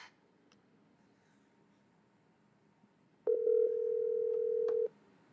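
Telephone ring tone on a radio show call: a single steady electronic tone lasting about a second and a half after near silence, loud and close.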